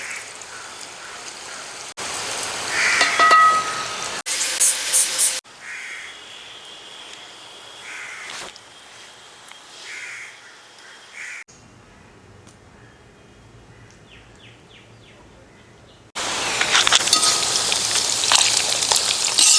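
Pre-cooked beef frying in a pan for Kerala-style beef pickle gives a steady, rain-like sizzle and crackle that swells, drops back for a stretch, then returns loud and dense near the end.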